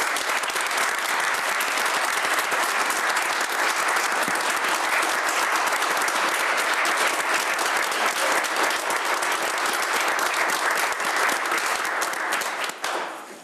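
Sustained, dense applause fills a village board meeting room, steady and loud for several seconds before tapering off abruptly at the end.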